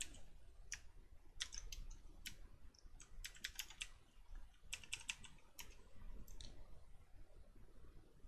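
Quiet, close keyboard typing in short irregular bursts of clicky keystrokes with small pauses between them.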